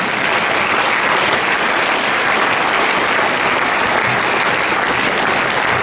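Loud, dense applause and cheering fill a church conference hall as an audience acclaims Jesus during a Holy Spirit gathering, sustained and unbroken throughout.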